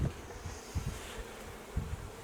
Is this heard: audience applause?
no